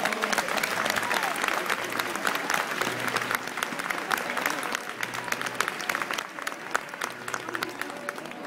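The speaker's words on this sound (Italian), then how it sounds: "Con un grosso applauso, e viva San Ciro!" A crowd applauding at the end of the San Ciro religious procession, sustained dense clapping with a faint low hum beneath, filling the space at moderate distance.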